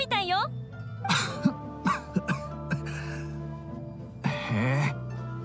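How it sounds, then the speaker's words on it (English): A character coughs in a Genshin Impact cutscene set in Inazuma, with several short, sharp coughs spread between stretches of Japanese dialogue and background music. "He's always coughing."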